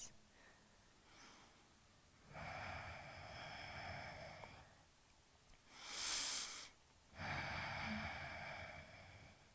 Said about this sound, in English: Take 5 more soothing and cooling breaths.